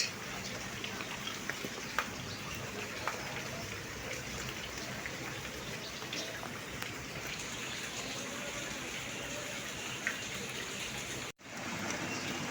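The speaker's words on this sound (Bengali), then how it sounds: "দেখতেই তো পারতেছেন কেমন বৃষ্টি হচ্ছে" Steady rain falling, a dense even hiss with scattered drip sounds, continuous throughout with a brief dropout near the end.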